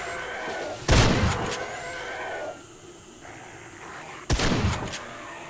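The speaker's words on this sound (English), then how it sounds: "Let me shoot some of these guys here." Two loud gunshot blasts in the survival game 7 Days to Die, Alpha 5, fired a few seconds apart against a steady game ambience, each followed by a brief ringing tail.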